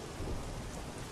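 Steady rain pours down in a thunderstorm, a dense, even hiss with a low rumble of distant thunder underneath, no voices.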